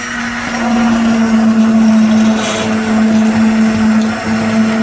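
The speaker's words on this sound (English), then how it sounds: "So we'll use the immersion blender for this." An immersion blender whirs steadily and loudly up close, a constant motor hum with a slight waver in pitch as it works.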